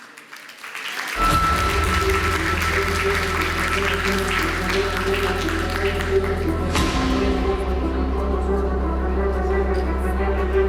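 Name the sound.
audience applause for the next panel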